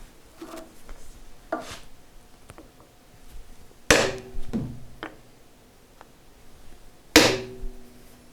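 A hammer strikes a hardwood block set against the blade wedges in a MiniMax CU300 jointer cutter head, giving a few light taps and then two sharp, loud metallic knocks, each ringing briefly in a quiet workshop.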